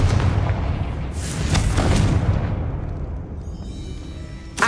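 Confringo fire spell explodes in Hogwarts Legacy, a deep booming blast with a rolling, crackling tail that fades over several seconds before a sharp new burst at the end.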